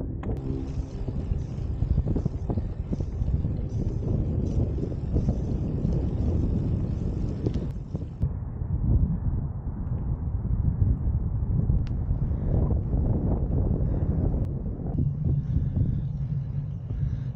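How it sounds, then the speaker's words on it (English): Gusty wind buffets the microphone while riding a Bianchi Sprint road bike, a loud, steady low rumble that surges and eases throughout, with no talking. "Oh, that wind."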